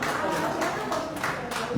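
Loud, continuous audience clapping for Dr. Kanaklata Tiwari at a grand Hindi poetry gathering in Maharashtra, dense and close with the crowd's clapping in steady pulses.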